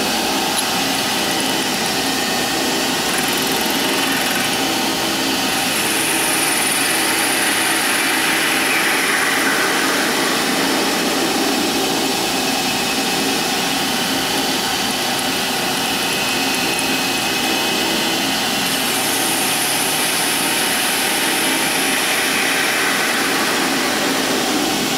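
A metal lathe facing a steel grinder wheel arbor over an inch in diameter at 1200 RPM gives a steady, loud whirring drone with a bright high cutting hiss that swells and eases throughout, no voices.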